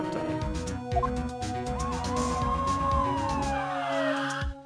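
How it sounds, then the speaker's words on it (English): Police sirens from the Phoenix Wright: Ace Attorney video game, several overlapping wailing tones sweeping up and down over a busy low rumble, loud and continuous before cutting off at the end. "That was a game sound effect. The police sirens, yeah."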